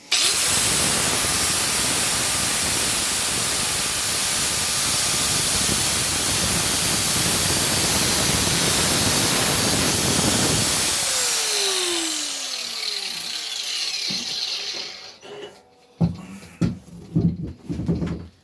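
A piston ring end gap grinder runs with a loud, steady whirring grind, then winds down with a falling whine, followed by a few sharp clicks and taps as the ring is handled; no talking.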